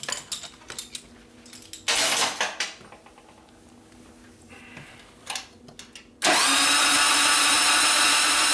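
A 1999 Harley panhead bobber with an S&S 93ci Evo motor turns over in short bursts and clunks, then fires and settles into a loud, steady run close by.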